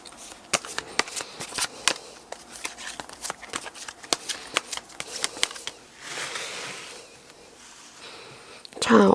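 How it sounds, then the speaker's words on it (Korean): Tarot cards being shuffled before an extra card is drawn: a rapid run of crisp card flicks and riffles for most of the stretch, then a softer, smoother sliding rustle near the end, fairly close. "우리 5번 여러분들만 한번 추가 카드를 뽑아드리도록 할까요? 이 엔젤 앤서를 뽑아드리도록 하겠습니다."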